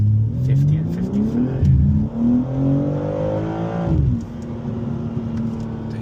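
A BMW M3 accelerates hard on a test track, its engine note climbing through the gears with a clear upshift dip, then settling into a steady loud drone.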